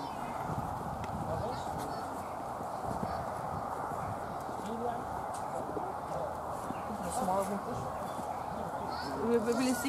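Horses at the Irish National Stud, hooves clopping and shuffling nearby in an uneven rhythm, with people talking steadily over the top.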